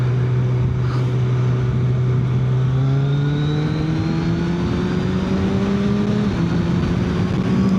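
A Suzuki Hayabusa motorcycle's exhaust drones loudly and close while riding, its engine note climbing steadily under load, with one brief dip near the end before rising again.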